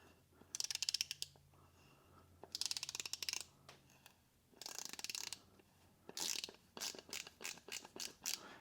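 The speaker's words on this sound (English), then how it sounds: "See if you can hear the clicks on this." Klein ratcheting T-handle screwdriver from a ModBox set clicking through its ratchet in several quick bursts of sharp metallic ticks, close up and fairly faint, with no one talking.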